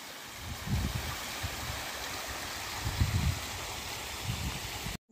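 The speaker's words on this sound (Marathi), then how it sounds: "इथे तुम्हाला पाण्याचा आवाज येतोय, तर इथून येतोय पाण्याचा आवाज, डोंगरावरनं पाणी वगळत वगळत येत आहे।" Water tumbling down a mountainside at Rayreshwar in misty, cloudy weather makes a steady rushing stream sound, with soft low gusts rising and falling before it cuts off abruptly.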